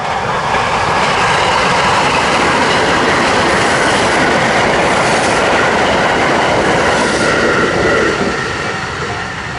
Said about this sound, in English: This is a Echizen Express train.